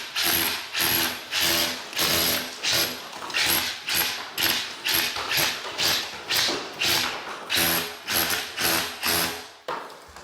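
A Hilti hammer drill fitted with a bolster chips plasterboard in loud, close bursts, pulsing in a fast, regular rhythm of about twenty hits with no talk.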